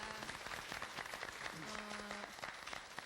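Audience applause welcoming guest Kim Seok-bong, a toast-truck owner, at a church prayer gathering: steady dense clapping from a crowd, with a voice speaking over it partway through.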